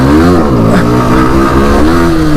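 A motorcycle engine revs loud and close for a wheelie on a road, a steady, throaty roar that rises and falls slightly in pitch throughout.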